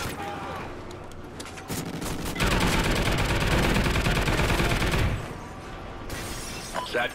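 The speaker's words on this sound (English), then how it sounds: "Soldier, your sentry gun is ready." Video game battle with rapid bursts of automated sentry gun fire mixed with other gunfire, dense crackling volleys that swell loud mid-clip and then thin out, with game voice announcements over them.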